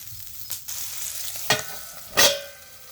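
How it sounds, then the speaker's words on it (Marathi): Green chilies roasting in oil on a griddle, with a steady sizzle under three sharp scraping stirs that sweep up loudly and fade, no voices. "तव्यात सगळ्या मिरच्या अशा पसरून घ्यायच्या म्हणजे लवकर भाजते तेलात मिरच्या अशी थोडी हलिवली"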